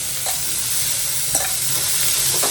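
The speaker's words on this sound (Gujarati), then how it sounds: "હવે ચણાને વઘારવાના છે" Boiled green chickpeas sizzle in a hot pan as they are tempered, a steady bright frying hiss with occasional soft stirring scrapes and no talk.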